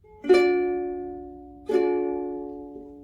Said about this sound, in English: C is an easy one, that is this one here. So it should sound like this.